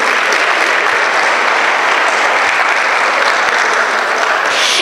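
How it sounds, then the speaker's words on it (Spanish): A large audience at a forum on water sustainability in Quintana Roo applauds loudly and steadily, a dense, continuous wash of clapping throughout. "Para quien pedimos un fuerte aplauso"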